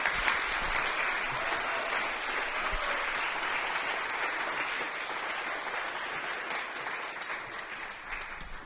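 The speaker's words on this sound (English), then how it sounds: "Everyone, please give a really warm round of applause." An audience at a talk on Indigenous cosmovision and Western science in psychedelic research claps warmly, a sustained, dense round of applause that carries on evenly throughout.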